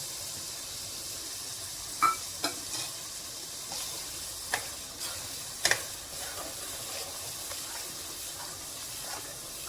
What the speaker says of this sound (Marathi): आता याला थोडं तेलामध्ये 3-4 मिनिटे होऊ देऊ.